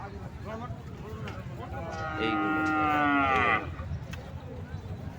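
A single cow on a livestock farm gives a loud, drawn-out moo lasting about a second and a half, rising above a background of people talking in the pen.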